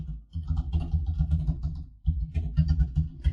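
Typing on a computer keyboard: quick, irregular keystrokes close by over a low background hum, with a brief pause partway through.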